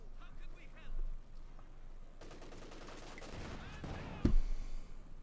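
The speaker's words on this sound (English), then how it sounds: "Shooting down the conscripts with the Panther 4 from a nice safe distance" Gunfire in the strategy game Company of Heroes 2, a Panther tank firing among bursts of small-arms fire and a sharp heavy blast near the end, mid-distance battle noise with a commentator talking over it.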